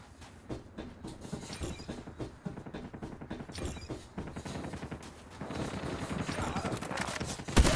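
Rapid gunfire in the mobile shooter Call of Duty Mobile, dense bursts of automatic shots and fusillades crackling almost continuously at close range, with a loud burst at the very end.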